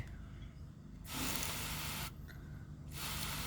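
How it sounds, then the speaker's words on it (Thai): A handheld spray bottle mists water over freshly planted cactus cuttings in two faint, close hissing bursts, each lasting about a second, with no talk. "ฉีดน้ำลงไปเลย"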